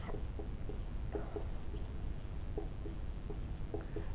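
Pen writing a maths formula by hand on paper, soft repeated scratching strokes in short bursts, close and quiet over a steady low hum, with no speech.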